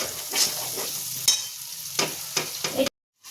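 Cauliflower masala being stirred in hot oil in a pan, a vegetarian dish made without ginger, garlic or onion: a few short scraping stirs over a soft steady sizzle, close up, then it cuts off abruptly.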